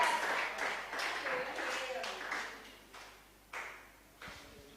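An audience claps at a championship award ceremony, in scattered bursts of applause that swell and fade several times, moderately loud in a large room.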